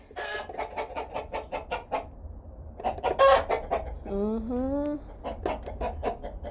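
Chickens in a farmyard during a morning egg harvest cluck steadily and close, breaking into one drawn-out rising squawk partway through, with no voices heard.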